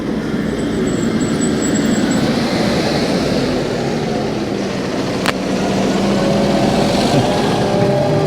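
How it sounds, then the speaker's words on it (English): A tractor's heavy engine rumbles steadily nearby on a canal towpath, droning loud and low as it passes close by an e-bike, with wind buffeting throughout. "Oh, I've got a tractor coming."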